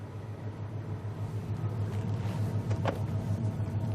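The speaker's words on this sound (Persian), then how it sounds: "ماشینم که روشنه." A parked car's engine idles with a low, steady rumble, moderately quiet and continuous, with a brief faint mechanical whine partway through and no talking.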